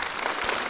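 A crowd applauding at a church gathering, a dense even patter of clapping at moderate volume that fills the whole short moment with no voices.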